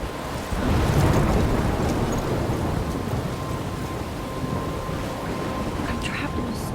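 Thunderstorm in the video game Life Is Strange: heavy rain hiss and low rolling thunder rumble continuously, building early and then holding as a dense wash of storm noise.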